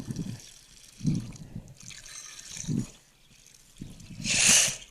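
Water poured from a bucket onto a plant in a farm field, a few short splashing gushes close by, ending in a louder spill.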